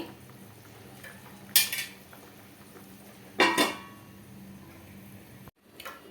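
Dry fish curry being stirred in a pot on medium flame, with two distinct metallic spoon clinks against the vessel and a faint tap near the end over a quiet background.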